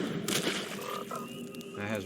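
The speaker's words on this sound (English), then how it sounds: "Frog." A frog croaks from a frog card in Magic: The Gathering Arena, a short digital ribbit sounding over soft game music and effects, with no speech.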